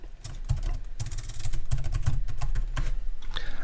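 Someone types a password on a computer keyboard, producing a quick, steady run of close, crisp key clicks with no talk.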